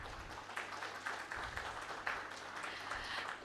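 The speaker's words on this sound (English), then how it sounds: "Should we give all our speakers a huge round of applause?" An audience claps for panel speakers at a tax conference, faint and distant applause with a low hum beneath it and a few louder individual claps rising out of the wash.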